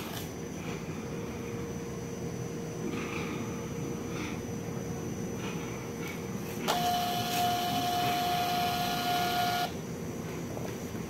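A thermal printer in an audiometry setup prints a test report: a steady mechanical whir with a constant tone, then a louder, brighter buzzing stretch of about three seconds before it drops back to the quieter hum.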